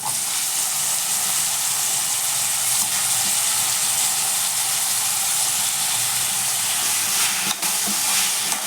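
Potato pieces frying in hot oil give a loud, steady, hissing sizzle that stays even and close throughout, with a faint clink near the end.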